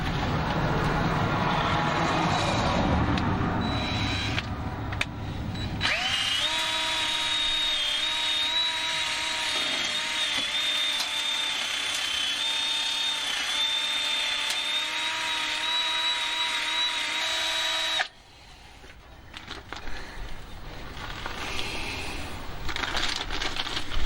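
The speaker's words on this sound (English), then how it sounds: "I want to just give it a quick wire wheel down." A wire wheel on a power tool cleans the exhaust flange surface of an MK7 Ford Transit LWB. A rough scraping noise settles into a sustained, steady whine for about twelve seconds, then cuts off into quieter clatter.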